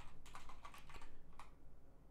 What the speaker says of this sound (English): As I was typing and talking at the same time